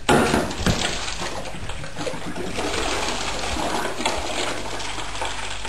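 Water swirls and gurgles inside two taped-together plastic bottles in a cyclone experiment, a close continuous sloshing and draining rush that starts with a burst and then settles into a steady churn.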